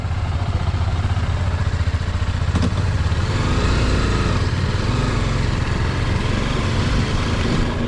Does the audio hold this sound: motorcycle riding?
yes